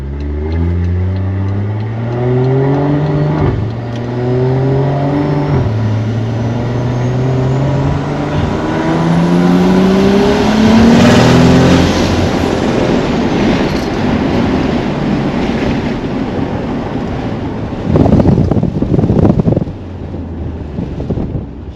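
A BMW F10 with the N55 engine, fitted with new ignition coils, accelerates hard on a test run, its engine note climbing through several gear changes amid wind noise, then easing off.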